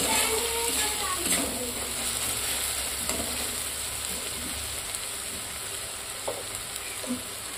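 Spiced ghugni fries in a pan with a constant crackling sizzle, broken by occasional scrapes and knocks of a spoon stirring it.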